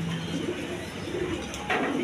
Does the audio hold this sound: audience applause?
no